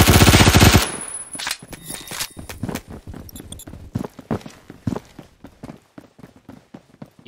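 Rapid automatic gunfire in Roblox Phantom Forces, a loud sustained burst at first, then scattered shots and bursts at varying distances, with footstep-like clatter between.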